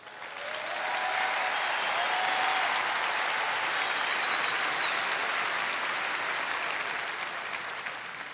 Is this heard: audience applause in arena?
yes